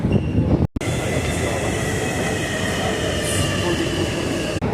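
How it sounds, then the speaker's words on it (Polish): A Warsaw metro train rides along with a steady loud roar of wheels on rails and faint squeals, heard from inside the car, broken by one brief dropout. "Będziemy jechać metrem"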